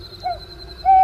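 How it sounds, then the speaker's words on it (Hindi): A cartoon owl gives a loud screech in a Hindi horror story set by water, a short thin call followed by a sharper, louder cry at the end. "अचानक एक उल्लू जोर से चिल्लाया,"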